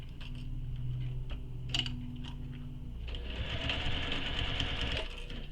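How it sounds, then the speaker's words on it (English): A sewing machine stitches a bag seam in rapid, even runs, with a short pause and a brief click near the start before the stitching resumes louder and denser toward the end. "So now we're going to sew this with the seam allowance given in the pattern."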